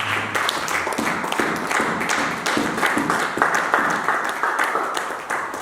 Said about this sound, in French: Acclame Jésus, acclame le Seigneur